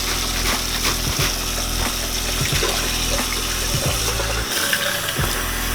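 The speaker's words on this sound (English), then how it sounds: "Fill it up a little bit, shake her a little bit more." Rinse water sloshing and rattling inside a plastic coolant reservoir being shaken, a continuous close, churning wash of liquid with rhythmic knocks, no talking.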